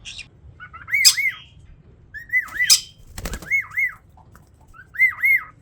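A bird sings clear, looping whistled phrases close by, repeated several times with short pauses and occasional sharp squawks between them.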